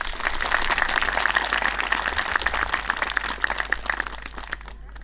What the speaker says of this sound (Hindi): हम लोग तीनों जन के लिए सभी को एक बार जोरदार से तरह ताली मार देंगे